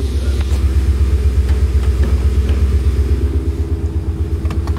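A Ford Mustang engine idling with its active exhaust valves open, a loud, steady, throbbing low rumble with a pulsing beat that runs through the whole stretch, with no talk over it.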